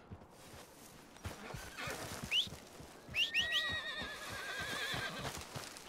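A horse whinnies twice in the Western video game Red Dead Redemption, a sharp rising neigh followed by a longer, louder one, with faint hoofbeats and background noise around it.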